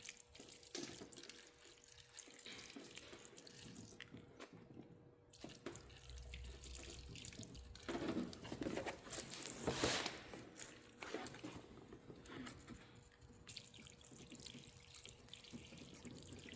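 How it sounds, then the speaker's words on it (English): Hot water runs steadily from a tap into a sink, a soft continuous hiss with faint splashing that rises briefly in the middle, with no one speaking. "all I'm using here is just basically the hottest tap water I can get out of the tap"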